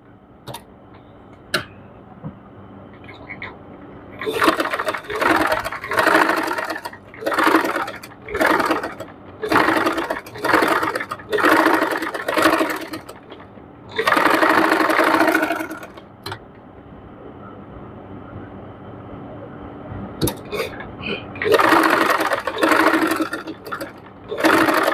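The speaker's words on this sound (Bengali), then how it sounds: "চতুর্থ সাইড এরকম করে মুড়িয়ে চতুর্থ সাইডটা আমি সুন্দর করে সেলাই করে নিব" Sewing machine stitching a neck design on fabric, running in repeated short bursts of rapid mechanical whirring separated by pauses, close and fairly loud with small clicks between runs.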